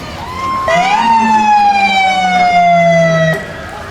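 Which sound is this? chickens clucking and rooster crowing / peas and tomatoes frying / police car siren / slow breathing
police car siren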